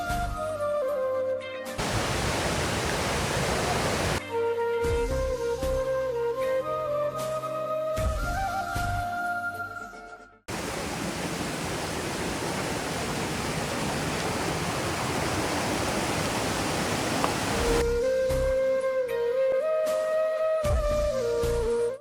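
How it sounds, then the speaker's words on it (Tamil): A waterfall at Surathali Ella rushes as a loud, steady broadband roar, with a few brief shifts in level as the listener moves closer and away. "இந்த வாட்டர்ஃபால் கிட்ட வாச்சலாம சவுண்ட் வந்து அப்படியே கொஞ்சமா கூடுது"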